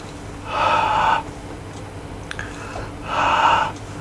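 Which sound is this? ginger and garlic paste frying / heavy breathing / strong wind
heavy breathing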